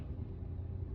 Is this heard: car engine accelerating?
yes